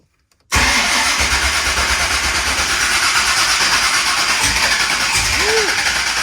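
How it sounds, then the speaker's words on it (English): A supercharged LSX V8 in a Ford F-1 pickup cranks over, kicking in abruptly and loudly after a brief silence and droning steadily to the end, close and unbroken. "I'm going to cycle the crank, make sure that the supercharger belt is good."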